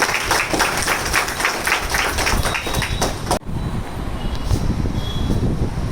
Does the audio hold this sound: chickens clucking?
no